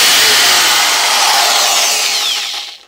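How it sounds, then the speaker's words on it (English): A cheap 710-watt power drill fitted with a cutting disc whines loudly and steadily at close range for a few seconds, then winds down as it stops. "So it's just a cheap power drill."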